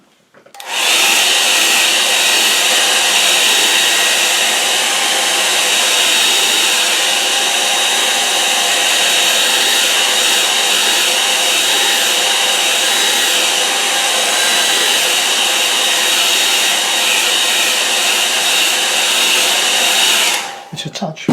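A hair dryer blows continuously at close range over wet acrylic paint, a loud, steady whirring hiss that starts abruptly, holds unchanged for about twenty seconds and then cuts off.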